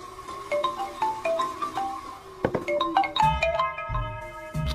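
An electronic phone ringtone plays a bright, repeating melody of beeping tones, with a few thumps partway through and no voices.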